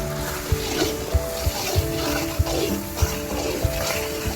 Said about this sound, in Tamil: கருவேப்பிலை போடுறோம் மக்களே. உப்பு கொஞ்சம் போட்டுக்கிறோம்.